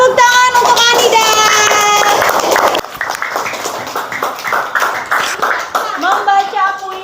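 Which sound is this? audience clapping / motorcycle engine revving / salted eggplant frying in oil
audience clapping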